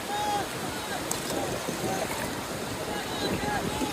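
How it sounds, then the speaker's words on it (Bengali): Large sea waves break and wash continuously on a beach at Cox's Bazar, a broad steady roar of surf and wind with faint voices in the background. "বড় ঢেউ আসতেছে"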